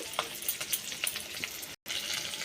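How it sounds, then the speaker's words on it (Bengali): Chopped onion and capsicum frying lightly in oil in a pan, a soft continuous sizzle with small crackles and a brief stir, with a momentary dropout near the end. "পেঁয়াজ ক্যাপসিকাম আমি হালকা করে ভেজে নেব"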